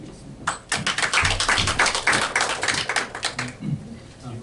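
An audience applauding a lawyer at a formal talk, a dense run of close, rapid claps that holds steady for several seconds and then thins out.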